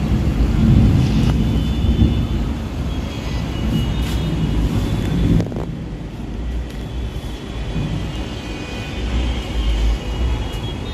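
Steady rain falls outside a home, with a deep, rolling rumble of thunder loud early on and easing later, a continuous wash with no talking.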